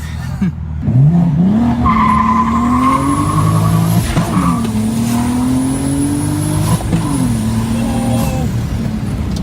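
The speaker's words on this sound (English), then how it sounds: "It sounded like a crazy blow off, or we like blew a line or something" A 2023 BMW M3 pulls hard through the gears, engine note climbing and dropping at each shift, with sharp high whooshes and squeal-like bursts resembling a blow-off; loud, close and continuous.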